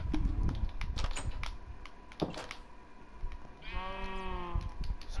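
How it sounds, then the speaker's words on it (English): Sheep bleating in the video game Minecraft, a single wavering bleat near the end following a run of quick computer keyboard clicks and soft tapping. "Where's the other sheep?"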